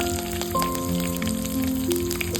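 Garlic cloves and curry leaves sizzle in hot oil in a pan, a steady close crackle and hiss that runs through the whole stretch, with faint tonal kitchen hum underneath.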